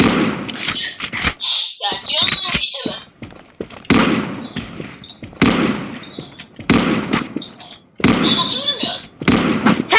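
Deagle pistol shots ring out in a Roblox game as a handful of loud, sharp reports spread across the stretch, with a lively voice talking excitedly between and over them.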